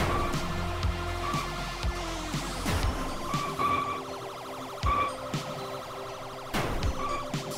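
Police siren in the video game Shakedown Hawaii wails in repeating cycles over game music and sound effects, fairly loud and continuous for several seconds.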